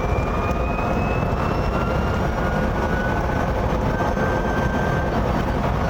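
A small, cheap electric car is pushed hard into a tight corner, giving a steady, loud broadband rumble of tyre and road noise with a faint whine drifting above it and no voices.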